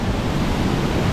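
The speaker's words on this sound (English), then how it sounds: "As you can see, that's a waterfall." A waterfall on a hiking trail in northern Thailand near Chiang Mai gives off a loud, continuous broadband rush with no breaks.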